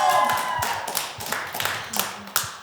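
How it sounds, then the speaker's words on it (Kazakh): An audience at a podcast recording claps in a short, uneven burst of hand claps for a few seconds, with some voices mixed in. "Сондықтан тағы да бір деп шапалақ ұрып қойсаңдар бұл"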